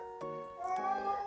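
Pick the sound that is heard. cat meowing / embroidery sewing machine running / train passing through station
cat meowing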